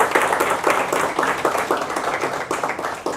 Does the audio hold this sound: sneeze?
no